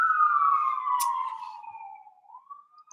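An emergency vehicle siren wails outside with one long descending tone that then rises again, moderately distant and fading slightly as it passes, with no talking over it.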